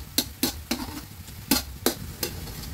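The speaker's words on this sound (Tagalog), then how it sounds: "Yan, hulog na natin ang sibuyas." Onions cook in hot oil in a pan as a spatula scrapes through them in about seven sharp, evenly spaced strokes over a soft, low sizzle.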